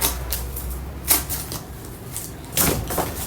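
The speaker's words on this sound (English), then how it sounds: "You get your pair of scissors and cut out that" Soft, intermittent snipping of scissors cutting out an outline, a few irregular close crisp cuts against a quiet background.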